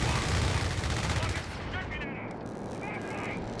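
BL 5.5 artillery barrage in Company of Heroes 3, dense rumbling booms and rapid gunfire in a 4v4 battle, loud at first then fading into lighter distant shots as a voice talks over it.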